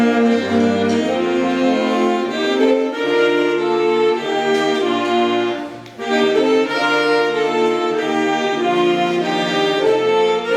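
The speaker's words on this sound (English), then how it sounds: "The saxophone section as a group sounds like this." A middle school band's saxophone section plays together at a concert, sustained harmonized reedy chords moving in phrases with a short breath gap midway, loud and clear without talk.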